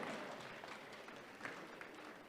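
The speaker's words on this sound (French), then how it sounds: "Et on peut tous s'applaudir, bravo." A conference audience at a digital learning presentation applauds, a faint, distant wash of many hands clapping that stays low and even throughout.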